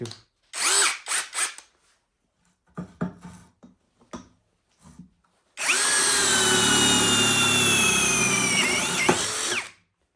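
After several brief scrapes and handling noises, a cheap brushless cordless drill with an 8 mm bit whines steadily and loudly for about four seconds as it bores into metal, then stops.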